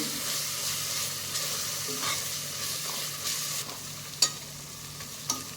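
Ginger garlic paste fries in oil for home-made chicken biryani, a steady close sizzle broken by a few soft scrapes and two sharper spoon knocks near the end, no talk.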